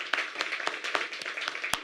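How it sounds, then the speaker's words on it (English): An audience claps for Caroline Hirsch, founder of Caroline's on Broadway, at an event announcing the New York Comedy Festival, with brief, light scattered applause from a small crowd heard up close. "Yes, we can applaud for Caroline."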